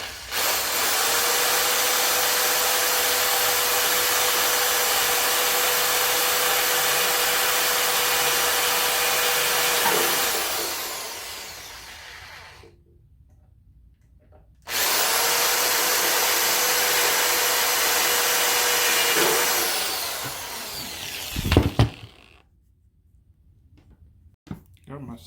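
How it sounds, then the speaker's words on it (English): A power drill bores shank holes for drywall screws in the top of a workshop chop saw stand, giving two long, steady whining runs of about ten seconds each with a short pause between them and a few knocks near the end. "Got my 6 shank holes drilled."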